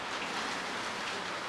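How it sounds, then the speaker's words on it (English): Rain falling outside a house, a steady, dense hiss of drops hitting surfaces that stays even and moderately loud throughout, with no voices. "it started raining"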